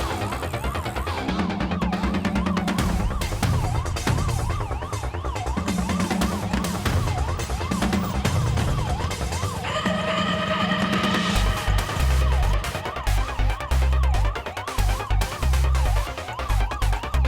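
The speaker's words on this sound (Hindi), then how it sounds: "पुलिस का सायरन है" A police siren from a Hindi-dubbed South Indian action film wails in repeated rising and falling sweeps, loud and steady throughout, mixed with pounding music and chase-scene effects.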